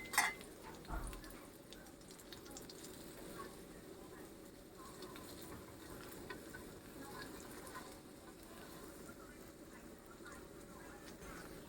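Omelette with cha-om, a Thai acacia leaf, fries gently in a pan over low heat, a soft, continuous sizzle with an occasional turning scrape near the start, quiet and close.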